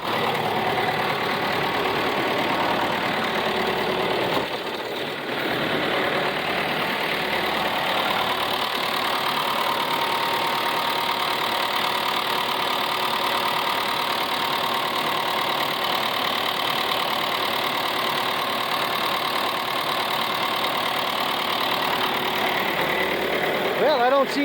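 A car engine idles steadily after a fuel filter job, a continuous close rumble that holds for the whole stretch with a brief dip partway through.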